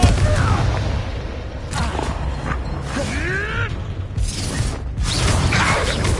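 Spell combat in the Hogwarts Legacy video game: Confringo fire blasts boom and whoosh in bursts several times, with creaking and thudding effects, loud and close under a character's shouted voice lines.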